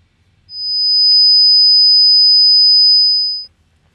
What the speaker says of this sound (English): This one is 5000 hertz.